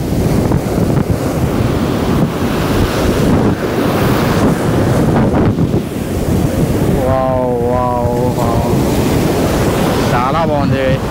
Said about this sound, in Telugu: వాటర్ చూడండి ఎంత ఫోర్స్ కొడుతుంది